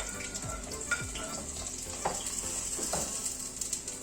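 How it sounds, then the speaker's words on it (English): Onions hiss in hot oil in a pan over medium-high heat while chiles rellenos are prepared. A soft, even sizzle with occasional clicks and light stirring knocks, close and fairly quiet, with no talk. "Now I have my pan hot with the oil. Just keep it medium high so it's not going to burn the oil, and then you add your onions."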